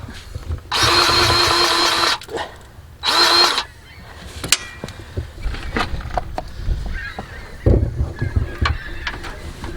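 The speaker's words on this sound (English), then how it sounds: "Some gulls racket. Isn't it?" Two long, loud, harsh bird cries ring out near at hand, then quieter scattered calls and clatter follow.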